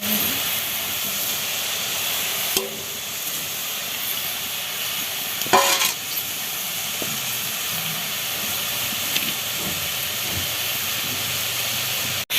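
Matar shak (pea greens) frying dry in a pan without water, giving a steady hiss and sizzle throughout with a few brief louder bursts and clatters.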